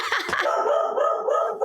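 A dog barks and yips in quick, close, loud bursts at home, set off by something outside such as a passing car, with no talking over it.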